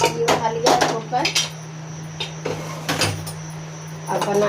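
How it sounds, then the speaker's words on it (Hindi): Metal clanks and a knock as a pressure cooker is lifted and set down, close by, with a steady hum underneath and short gaps between the sounds. "ये उठा लिया कुकर।"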